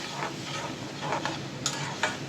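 Shutki (dried fish) being stir-fried in a pan, a soft continuous sizzle marked by repeated scraping strokes of a spatula, fairly quiet and close, with no talking.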